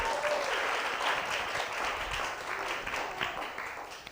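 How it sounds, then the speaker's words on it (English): A late-night show audience at North Texas gives a round of applause, a steady wash of many hands clapping at moderate distance that swells and thins over a few seconds. "can we get a round of applause for that?"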